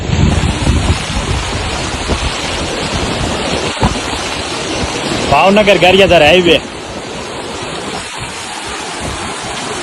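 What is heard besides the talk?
heavy rain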